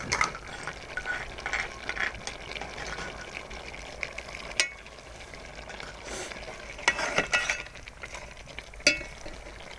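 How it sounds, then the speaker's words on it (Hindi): Beef karahi cooked with ginger and green chili paste, sizzling and frying steadily in a pan while a spoon stirs and scrapes with occasional clinks, loud and close. "अब हम इनको अच्छे से मिक्स करते हैं, इसकी भुनाई करेंगे"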